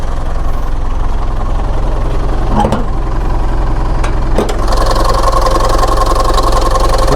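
A 2015 Mitsubishi Triton Exceed VGT 4x4 automatic double-cab pickup, stock engine with no remap, idles at working temperature with a steady low diesel rumble and a couple of brief clicks partway through.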